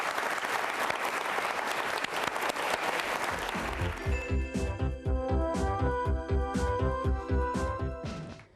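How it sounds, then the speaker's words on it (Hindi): Loud, dense applause from an audience honouring the health minister at an organ donation quiz show in Rajasthan, filling the first half before giving way to music with a steady beat. "माननीय मंत्री महोदय के सम्मान में जोरदार तालियां बजाइए"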